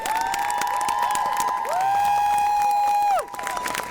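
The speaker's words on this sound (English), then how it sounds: "Let's give a big round of applause to all the bands that have participated in tonight's event." An audience at an evening band event cheers and claps loudly for the bands, with long shrill whistle-like tones sliding over the crowd noise before it drops off briefly.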